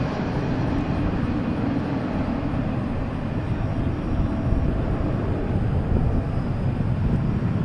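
An airliner arriving from LAX lands at DFW airport, a loud, steady jet roar with broad rumble and wind-buffeted noise that holds without a break for the whole stretch.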